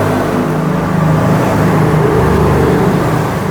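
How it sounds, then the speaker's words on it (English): Road traffic roars close by, a loud continuous wash of engine rumble and tyre noise from passing cars with no pauses. "But I hope you can hear me at all with all this traffic noise."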